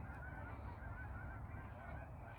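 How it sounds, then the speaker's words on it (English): Ducks flying overhead heading south in an autumn open space with a drainage ditch. Faint honking calls come from a distance through a steady outdoor rumble, with no talk. "So, more ducks coming through."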